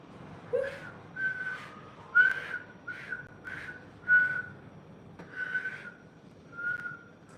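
A person whistles a simple tune alone, a series of short clear notes and phrases with brief pauses between them, fairly quiet over a soft background.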